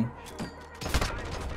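Shotgun blasts in the shooter game Modern Warfare, a few sharp booming shots spaced apart over a steady game background, with a louder cluster of gunfire near the end.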